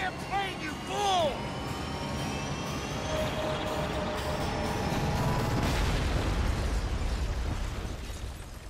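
A plane crashes and explodes in Dead Rising 3, a swelling, roaring blast that builds into a long, heavy rumble and slowly fades. Short vocal sounds come just before it.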